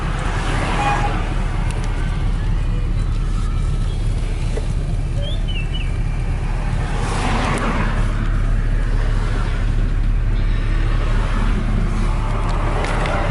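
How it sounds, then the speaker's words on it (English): Road traffic passes during a tornado warning near Independence, Missouri, a continuous loud wash of tire and engine rumble from nearby vehicles, with faint bird chirps and a few louder passes swelling in and out. "since now I see a bunch of traffic."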